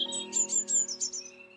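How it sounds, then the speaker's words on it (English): A robin gives a rapid series of bright chirps and twitters, about five quick high notes close by, clear and alone against a faint tonal background. "She heard a chirp and a twitter"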